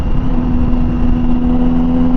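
A 2017 Triumph Tiger 800 XCx motorcycle fitted with a Dan Moto exhaust runs steadily at close range, giving a loud continuous engine drone with a firm low hum and no talk.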